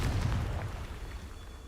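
Confringo spell explosion in the video game Hogwarts Legacy, a deep booming blast that hits at full strength and rumbles away over under two seconds, with no talk over it.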